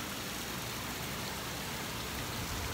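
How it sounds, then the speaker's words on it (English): Heavy rain pouring outside on a dark morning, a dense, steady broadband hiss of falling water that fills the whole stretch without letting up, with no talking over it. "it's raining really bad."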